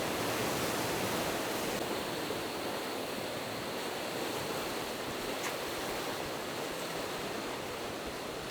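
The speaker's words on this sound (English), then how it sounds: "an incredibly powerful river" A powerful river near Tatopani in Nepal roars below a rickety bridge as a loud, constant broadband rush of water that never lets up, with no voices.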